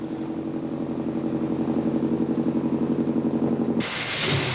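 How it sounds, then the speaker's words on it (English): The steam engine of the Liberty ship SS John W. Brown turning over while warming up, a loud steady rhythmic chugging with a pulsing beat, cut off near the end by a burst of hiss. "the engine is turned over as the command from the bridge calls for warming the engine"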